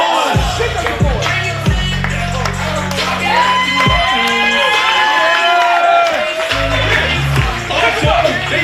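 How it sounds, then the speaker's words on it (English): Crowd at a live Fuego Ent vs Clown Mob event cheering, shouting and clapping over loud thumping music, a busy, continuous roar close to the listener. "Let's get a round of applause."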